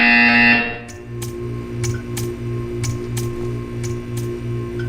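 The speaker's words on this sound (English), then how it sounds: "You will hear a buzzer." An electronic buzzer in the video game Portal 2 sounds as a regular series of short pulses after a louder tone cuts off, steady and mechanical, with a faint hum beneath.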